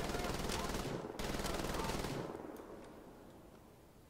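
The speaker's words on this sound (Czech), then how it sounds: "A máme i ten velký rotační kulomet." A huge rotary minigun roars in Wolfenstein: The Old Blood, a dense continuous buzz of rapid shots for about two seconds, briefly cut off and resumed, then fading into a reverberant tail.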